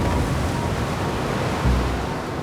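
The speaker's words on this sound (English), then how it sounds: "You just look at the waves crashing against the rock there." Ocean waves crash against rocks at Tofua island, a steady broadband roar of surf and wind with a heavier thump of water near the end.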